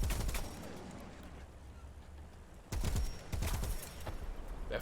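Aircraft cannon fire in War Thunder comes as dense rapid bursts. One volley sounds at the start, and after a quieter stretch of engine drone two louder bursts follow, loud and close.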